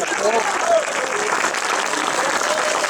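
An audience applauds the cast of a comedy sketch, a steady wash of clapping that fills the whole stretch with some voices mixed in.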